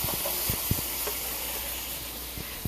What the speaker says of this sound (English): I am sauteing some onions and some garlic